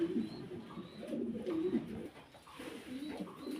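Pigeons for sale coo softly in repeated low, rolling calls, close by and unaccompanied by talk.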